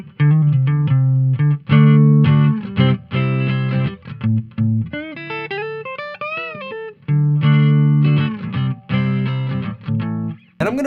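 Electric guitar played with a clean, bright tone and a touch of reverb, strumming chords and picking a lively riff with short pauses.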